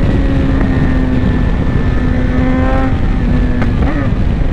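A 2018 BMW S1000XR motorcycle engine accelerates nearby, a loud droning whine rising in pitch over several seconds, then easing before a brief shift.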